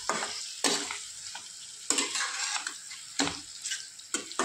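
Chicken frying in masala while being stirred, a close, quiet sizzle punctuated by a few distinct scraping bursts as a spoon works the pan, with no one speaking.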